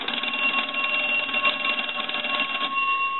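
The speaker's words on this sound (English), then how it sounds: "we're going to go ahead and ring this telephone." A Western Electric 250W wooden wall telephone rings with a continuous, loud, close bell jangle that holds steady across the whole stretch, with no voices over it.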